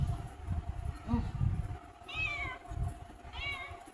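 Cats meow repeatedly in short, rising calls, several separate cries spaced a second or so apart, fairly close, over a low rumbling background with some faint voices.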